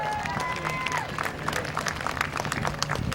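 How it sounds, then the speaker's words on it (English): A grandstand crowd applauds at a dirt-to-asphalt night at Midvale Speedway, with a continuous rustling clap under an announcer's voice on the public address. "Give him a round of applause."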